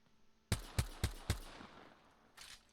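Four sharp, evenly spaced gunshots ring out in a video game, close and punchy with short decaying tails, followed by a fainter fifth shot after a pause, with no talk.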